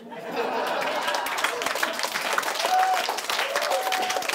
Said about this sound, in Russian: Сильнее аплодисменты